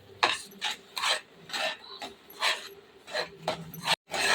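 Milk and sugar stirred in a pan for milk peda, a rhythmic series of close rasping scrapes of the spoon against the pan, about eight strokes with short gaps.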